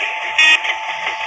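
A train horn sounding in a train driving video game, one steady, loud tonal blast that holds for just over a second and briefly swells in the middle.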